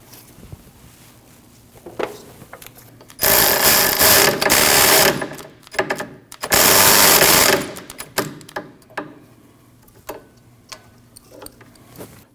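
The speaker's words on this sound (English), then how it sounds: "Install your 12mm bolt and tighten it." A ratchet tightens a 12mm bolt on a speed sensor at the rear wheel hub of a Subaru Forester, two loud stretches of rapid clicking separated by short pauses, with tool clinks around them.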